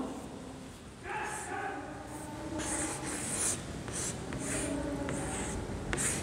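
Scratchy, rhythmic writing strokes during a kindergarten Hindi lesson, steady and close, over a noisy room background.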